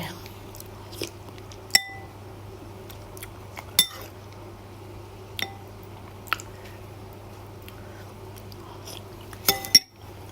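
Home-style meal of hot mushroom curry with sticky rice: close, soft chewing and mouth sounds with occasional sharp clinks of cutlery against dishes, spaced irregularly over low background hum.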